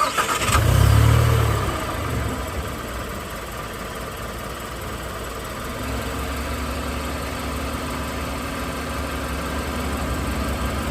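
Car engine cranks and catches with a low rumbling burst, then settles into a steady idle that hums on at an even level, close by and with no talking.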